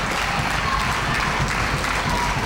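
A wrestling crowd applauds and cheers steadily, a dense wash of clapping and voices with no breaks.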